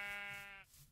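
A sheep bleats in the video game Minecraft, a single drawn-out, buzzy harmonic bleat lasting over half a second before cutting off, close and clear with no talking.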